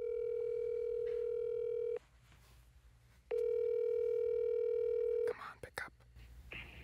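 Telephone dial tone heard before calling a cell phone, two long steady electronic tones separated by a short gap, then button beeps and faint voices as the call begins.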